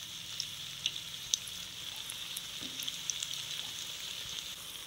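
Potato bhaji frying in hot oil give a steady, close sizzling hiss with scattered small pops and crackles throughout, and no voices over it.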